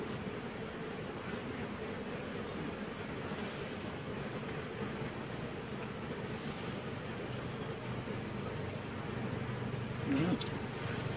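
Bees swarm at an open beehive with drone larvae in the comb, a dense, steady buzzing drone that stays loud and constant throughout, close to the hive, with no talking over it.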